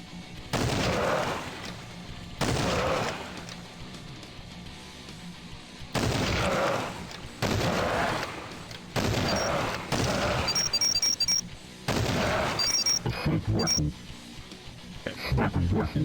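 Gunfire and grenade blasts in the video game Mask of Arcade Paradise come in loud bursts of rapid shots and booms, with quieter gaps between, under a voice talking over the action.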